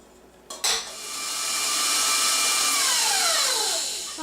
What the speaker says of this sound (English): we are going to put this on the mixer and mix it until it's very fluffy